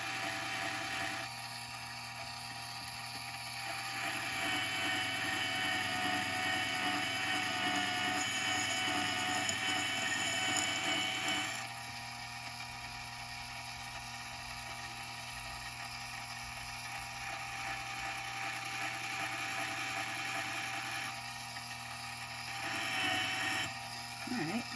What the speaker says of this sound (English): I'm gonna use this plastic guy to do a tiny bit of trimming on the bottom here.